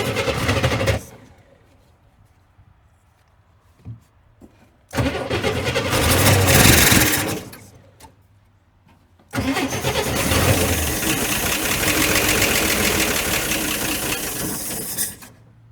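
A 1966 Corvair engine cranks in three separate bursts, each a loud, churning grind with brief pauses between them, never catching and running.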